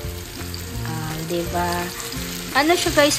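Sliced bitter gourd (ampalaya) sizzles steadily as it is sautéed in a pan, with stirring noises throughout and a voice talking over the cooking.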